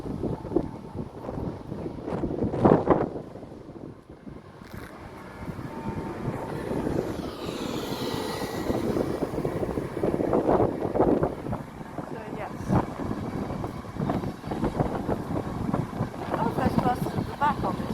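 A Class 802 train pulls into Hereford station, a broad rumbling roar building and swelling with wind buffeting the microphone, fairly loud and continuous throughout.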